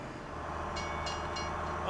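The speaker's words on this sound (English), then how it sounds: "Oh, we just missed a train." A train passes in a farming video game, a faint, steady rumble with light rhythmic clatter carrying on throughout at a distance.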